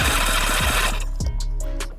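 A car engine cranks rhythmically on the starter during a compression test, roughly three rapid chugging pulses before the sound cuts to quieter ticking.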